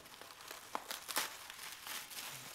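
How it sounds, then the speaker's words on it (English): Cabbage leaves torn apart by hand while preparing kimchi give a series of short, close crinkling rips, fairly quiet and alone. "work your way through the core a little bit and then tear it"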